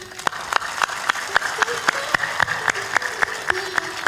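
An audience at a Hindi spiritual discourse claps loudly in a steady, rhythmic beat, with many hands striking together in time throughout. A voice can be heard faintly beneath the clapping.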